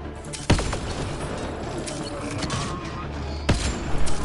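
Two sharp gunshots ring out about three seconds apart in the video game Mass Effect Andromeda. Each is a loud single crack, with a low hum of game ambience between them and a cluster of smaller clicks near the end.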